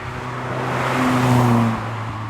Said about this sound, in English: Quite buzzy, nice bit of exhaust noise